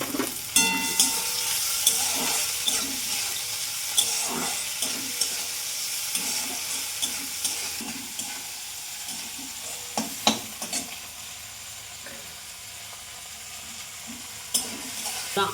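Cleaned, shelled prawns hit a hot pan and sizzle loudly, a steady frying hiss punctuated by repeated sharp clicks and scrapes of a spatulas stirring, close up.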